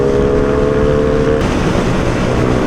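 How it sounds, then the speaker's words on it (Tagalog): A 175cc motorcycle accelerates hard on a provincial ride, its engine a loud, continuous roar with a steady tone that breaks into rougher, grittier revving partway through, heard close without talk. "Masyadong matulin yung motor niya kasi 175cc na to eh."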